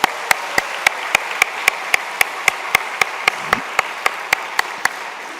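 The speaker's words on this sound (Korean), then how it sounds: "우리 청년부 한 번 더 박수." A church congregation claps for its youth group in a steady, even rhythm, crisp unison claps at regular intervals over a low wash of scattered clapping in a large hall.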